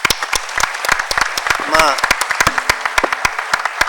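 An audience claps at a civic event in a steady, dense patter of hands lasting a few seconds, and a brief voice is heard partway through.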